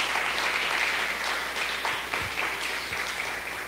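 Steady applause from a congregation at a home church service fills the whole stretch, dense and continuous clapping with no talking over it.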